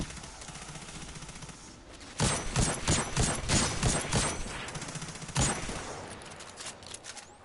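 A scout rifle fires repeatedly in the sci-fi shooter Destiny 2, a loud rapid string of sharp shots over about three seconds, then a single further shot, above steady game ambience.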